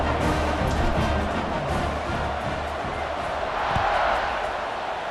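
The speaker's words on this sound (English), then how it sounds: "this crowd is buzzing after that last score" Stadium crowd in the EA Sports College Football 26 video game, a steady loud buzz of massed voices and cheering that swells slightly near the end.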